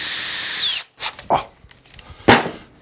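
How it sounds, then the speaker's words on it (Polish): A power drill bores holes into the wooden lid of a handmade lantern, with two or three short separate bursts of drilling after a steady high whine, close and fairly loud. "Przekręcamy, nawiercamy."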